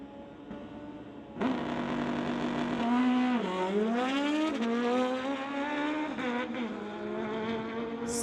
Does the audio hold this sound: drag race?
yes